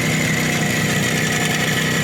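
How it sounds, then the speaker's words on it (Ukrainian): A 1989 Minsk motorcycle engine, kept in its original paint and needing its carburetor cleaned, runs steadily with the choke on. It gives a continuous close-up idle putter at an even level, with no voices. "я Діма завів цей мотоцикл, працює"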